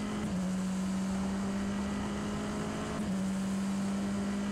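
A Tatuus FT-60 formula car braking at Silverstone in the racing sim rFactor 2: a loud, steady engine drone with a slight pitch dip early on, continuous and alone.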